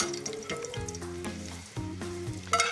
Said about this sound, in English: I am going to saute my asparagus first with garlic and olive oil